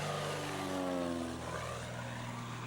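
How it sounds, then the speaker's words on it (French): A light propeller plane's engine roars close and loud as it powers up to take off again after failing to stop on a short, rocky, sloping bush airstrip in West Africa, steady droning with rising pitch, no talking. "l'un d'entre eux a même dû redécoller dans la foulée, faute de pouvoir freiner à temps"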